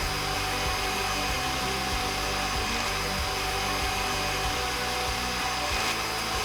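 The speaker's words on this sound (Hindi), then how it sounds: "इसको हम अच्छे से ब्लेंड करेंगे।" Electric mixer whipping meringue with caster sugar and cream of tartar, a loud continuous motor whir with a steady, unbroken drone throughout.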